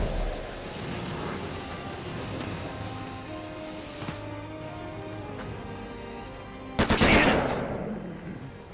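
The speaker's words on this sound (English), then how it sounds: "Can you hear the cannons?" Cannons fire in the video game The Lamplighters League, a burst of sharp blasts late in the passage over a dense bed of steady game noise and music.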